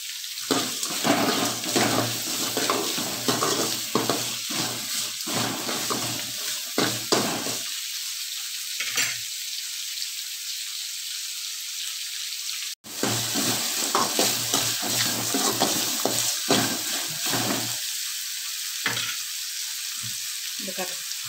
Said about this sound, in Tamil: வெங்காயம் நல்லா வதங்கட்டும், கொஞ்சமா வதங்கட்டு நாம போட்டுக்கலாம்.